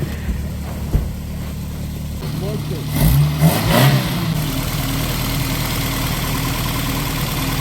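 An Isuzu Trooper engine idles steadily nearby, briefly revving up midway before settling back into a low rumble, with faint voices in the background.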